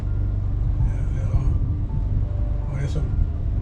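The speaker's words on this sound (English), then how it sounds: "there's some more hard thunder, guys" Deep, continuous thunder rumbles out over a bayou beside an off-grid houseboat at Peche Coulee, a low, heavy roll that carries along beneath someone talking.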